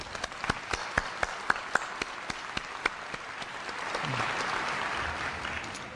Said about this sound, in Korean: 친지, 부모님을 위해서 박수 한번 보내드릴까요?